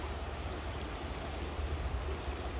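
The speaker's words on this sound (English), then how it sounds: "Coyote Creek is flowing pretty damn good" Coyote Creek near Morgan Hill, California, runs high and fast, a dense, steady rushing roar of water heard up close with no other sounds.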